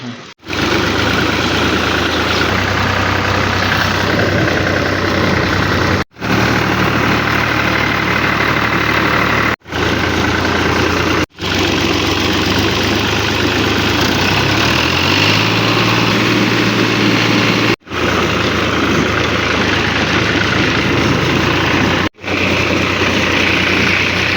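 A tractor engine idling after being started, a loud, steady, continuous low drone with a faint vibration that runs unbroken for over twenty seconds, with no talking.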